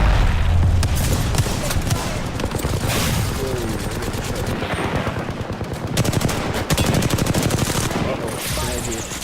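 Dense, rapid automatic gunfire from a shooter game, Apex Legends, bursts rattling continuously with heavy booms, loud and close throughout, with brief voice lines underneath.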